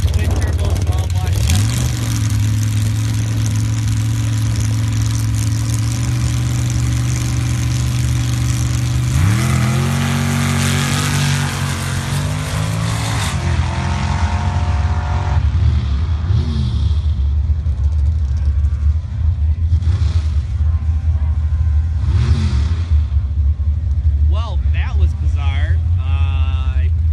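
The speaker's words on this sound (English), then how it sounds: "That is a serious dune machine over there. Long travel suspension, twin turbo, small block." A twin-turbo small-block dune cruiser with long-travel suspension roars at a sand drag race, its loud engine holding steady high revs and then winding up and down through repeated surges, while an announcer talks over it throughout.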